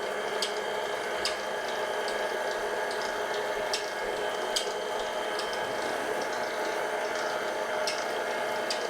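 An electric mixer whirs steadily as dry ingredients are beaten into a tomato soup spice cake batter, a constant close hum with faint scraping ticks and no talking.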